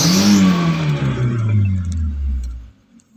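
A car engine revs hard as the accelerator is pressed, a loud, rising mechanical roar that holds for a couple of seconds and then drops away to near quiet.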